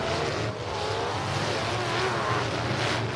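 A race car, number 86, accelerates on the track with a steady, loud engine drone and a brief dip early on, with no other sound over it.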